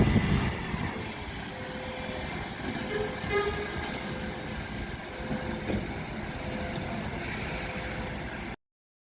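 A First-operated airport flyer bus pulls away from a Bristol stop with a loud, close engine rumble and a hiss like air brakes, while a short horn-like toot and steady traffic noise are also heard.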